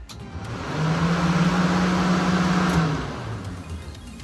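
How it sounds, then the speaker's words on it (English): Cooling fans in a Class 7 Ford Ranger race truck whir up into a steady, loud hum with a constant tone for a couple of seconds, then wind back down. "With all the fans on in this truck"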